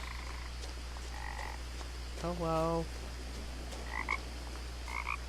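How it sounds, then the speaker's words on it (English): Frogs croak in the video game What Remains of Edith Finch, one loud ribbed croak in the middle with shorter chirping calls before and after over a steady low hum, and a brief spoken word at the start. "Frogs!"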